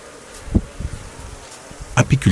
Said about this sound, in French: Antonine Dassouazanak fait un tour dans sa cour pour prendre soin de ses abeilles.